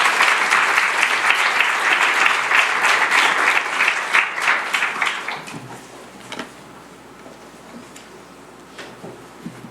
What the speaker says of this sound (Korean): 우리 사모님 나오실 때 우리 큰 박수로 환영해 주시면 감사하겠습니다.